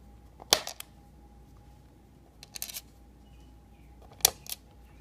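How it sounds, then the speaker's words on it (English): The plastic lid of an NES cartridge shell is lined up with its notches and snapped closed, a few sharp close plastic clicks and rattles separated by quiet pauses, with no talking. "Kind of line up with the notches up top, and you close the lid."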